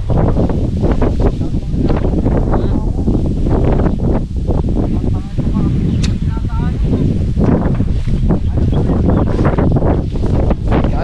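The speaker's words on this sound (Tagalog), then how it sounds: "Lakas ng hangin niya oh." Strong wind roars steadily against the microphone outdoors, a loud continuous buffeting rush with gusty swells.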